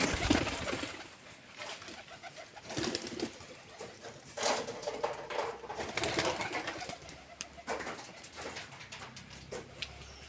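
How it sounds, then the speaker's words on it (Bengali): Pigeons coo softly at a distance, with faint rustling and scattered background noises around them. "আর এটা হচ্ছে আমাদের কবুতরের খোপ"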